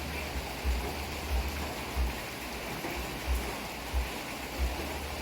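Soft, steady patter of a light morning drizzle outside a house, a continuous gentle wash with faint low thumps here and there.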